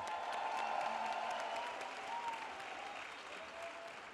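A live audience at a comedy stage show applauds steadily, the clapping soft and somewhat distant as it slowly fades.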